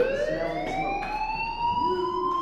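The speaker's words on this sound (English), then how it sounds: "do you hear that fire alarm? That means you should be outside." A fire alarm in the mobile video game Life Is Strange wails with a steady rising electronic tone and bright overtones, loud and continuous throughout.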